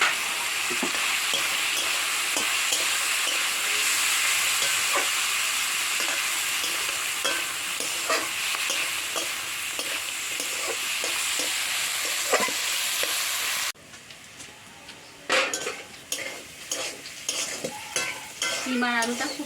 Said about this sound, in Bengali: শিম আর আলুটা খুব সুন্দর ভাজা হয়ে গেছে